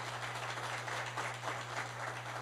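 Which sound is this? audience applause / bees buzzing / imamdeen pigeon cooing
audience applause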